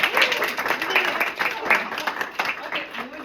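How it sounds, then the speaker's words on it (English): A small group claps briefly and unevenly nearby, with voices chattering over the applause. "let's give an applause"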